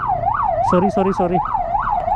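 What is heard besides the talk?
vehicle siren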